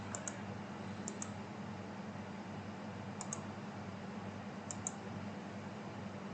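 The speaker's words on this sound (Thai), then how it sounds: "เราไปกดที่ delete ที่ ตัวคีย์บอร์ดของเรานะครับเขาก็จะลบไปเลย" Computer keyboard keys are pressed in small pairs of quick clicks, faint and spaced out over a steady background hiss.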